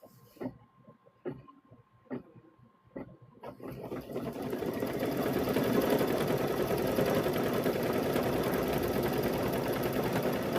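Sewing machine stitching a patchwork quilt: a few short separate stitch bursts, then a loud, steady run of rapid mechanical whirring close up that continues to the end.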